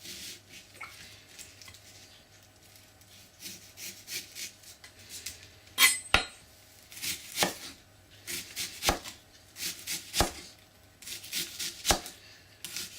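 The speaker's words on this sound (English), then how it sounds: "Cut down into the onion, but not all the way through." A knife chops into an onion on a board, with quiet scraping at first, then a run of crisp, close cuts in an irregular rhythm, several sharp knocks standing out.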